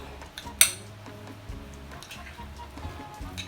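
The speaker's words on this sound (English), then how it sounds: "we're just going to go ahead and give this a mix" Ingredients for a mayonnaise cheese spread being mixed in a bowl, with a sharp clink of utensil on the bowl near the start, then soft, irregular scraping and tapping, close and fairly quiet, with no talking.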